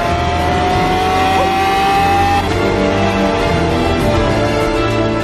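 A Lamborghini Aventador SV's naturally aspirated 6.5-litre V12 howling close and loud, revving high with rising tones, then shifting down to a deeper steady drone.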